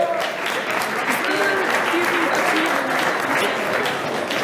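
Audience applause at a boxing championship fight introduction, steady loud clapping from a crowd throughout, with an announcer's voice faintly under it.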